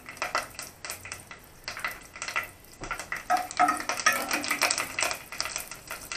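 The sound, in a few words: curry leaves spluttering in hot oil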